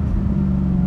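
A V8-swapped BMW E30 idling steadily with a low, even rumble and a faint tonal hum, close and continuous for under a second, with no voices.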